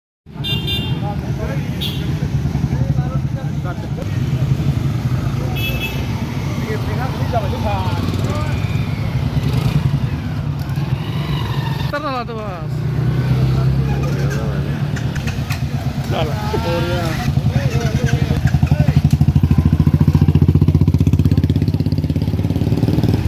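Motorcycle engines of a bike rally rumble and idle close by at a steady level, with occasional horn toots and people talking throughout.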